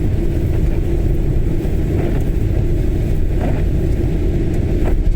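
An electric Vauxhall Corsa passes on the road, with a loud, steady low rumble of traffic that fills the whole stretch and no talking.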